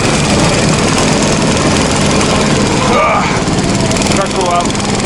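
A motorized snow tug (motosobaka) engine runs loud and steady while it pulls through deep virgin snow along old vehicle ruts, a constant close drone throughout with only slight strain changes.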